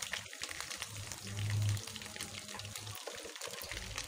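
Ginger garlic paste fries in oil for a black pepper chicken dish, a soft, steady sizzle that swells briefly, heard up close at low volume without speech.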